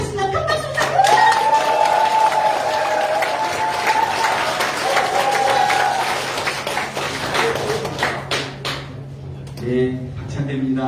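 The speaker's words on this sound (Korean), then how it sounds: "큰 박수 부탁드립니다." Party members in the Democratic Party's Jeju office meeting room applaud party-leader candidate Park Chan-dae with loud, dense clapping under a steady low hum, which thins into scattered claps and knocks near the end.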